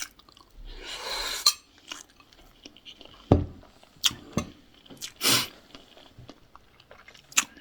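Close, crisp chewing and biting of a home-cooked meal, with irregular crunchy bursts and soft mouth sounds spread over several seconds, alone without talk.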